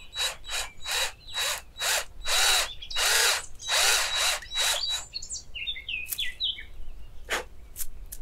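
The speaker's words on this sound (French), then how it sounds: "Tu vas pas percer droit, tu vas percer légèrement incliné vers le bas." Cordless drill boring a slightly downward-angled hole into a birch trunk, a run of about ten rhythmic, loud whirring bursts, followed by quieter bird chirps in the background.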